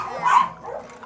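A rescued dog gives a brief bark or yip, close and fairly loud, with a softer whimpering tail after it, all within about a second.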